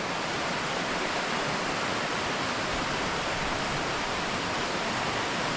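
A waterfall pours over big rocks and curves in an S shape down into a main river, giving a loud, steady, broadband rush of falling water that fills the whole stretch without pause, close by and with no voices.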